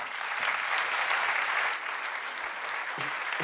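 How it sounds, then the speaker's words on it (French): Audience applause at a web festival: dense, steady clapping from a crowd, fairly close and sustained for a few seconds with no voices on top. "Et oui, ça s'applaudit bien sûr."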